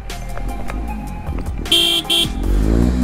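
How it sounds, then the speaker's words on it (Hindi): A vehicle horn gives two short, loud blasts over the steady rumble of a nearby engine and road noise. "और मैं हॉर्न मार देता हूँ यहाँ से।"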